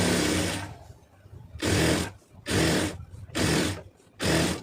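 A sewing machine stitches a folded hem on a lace round-neck garment, running in four loud, close bursts separated by short pauses.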